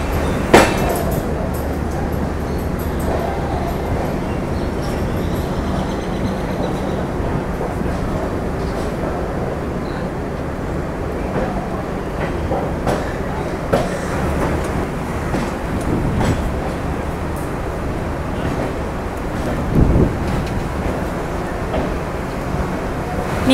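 Rajdhani Express pulling into Sealdah station after the run from New Delhi, a steady loud rumble of rolling wagons with scattered clanks and rail clatter, no talk.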